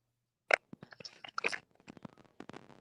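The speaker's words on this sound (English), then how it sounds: "Still crunching. Are you hearing?" Someone crunching food while eating, with a series of close, dry crunches and bites in irregular bursts against a quiet background.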